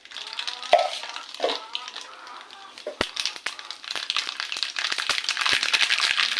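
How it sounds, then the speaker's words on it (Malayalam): Mustard seeds dropped into hot coconut oil crackle and sizzle in a pan, faint at first, then a busier spattering hiss with small sharp pops, close by and under quiet talk. "അതിലേക്ക് 1 സ്പൂൺ കടുക് ഇട്ട് കൊടുക്കുന്നുണ്ട്"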